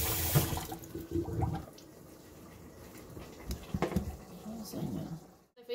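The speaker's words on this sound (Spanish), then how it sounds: "Y mi cuchillo también lo voy a lavar bien" Tap water runs into a kitchen sink while raw chicken is rinsed and a knife is washed, a steady low splashing with clatter and soft handling noises, and a dog is faintly heard in the background.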